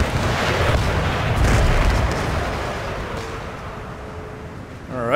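A loud, heavy cannon boom in a Total War battle between the Russian Empire and the Crimean Khanate. It rolls out at the start and decays slowly into rumbling battlefield noise, with a faint tonal whine near the end.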